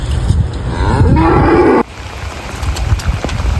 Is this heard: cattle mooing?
yes